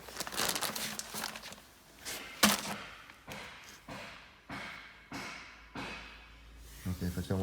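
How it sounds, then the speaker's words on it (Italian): A plastic bag is crumpled and handled in a series of crinkling bursts and soft thuds, close and fairly loud, during a weight-filler bag-in-box test. "Ok, cartoccia il sacchetto, buttalo dentro."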